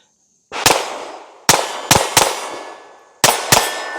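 A suppressed Ruger Mark IV 22/45 .22 pistol fires Stinger ammunition: five sharp, metallic cracks at irregular intervals, each with a brief ringing decay, close and loud with silence between.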